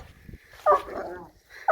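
A big pet dog playing with another dog, giving short loud yips and play growls in two bursts with quiet scuffling between, close by.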